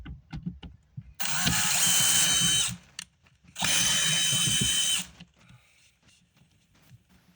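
Power drill driving a screw into a household cabinet, two loud whirring bursts of about one and a half seconds each, close by, with quiet handling noises between them.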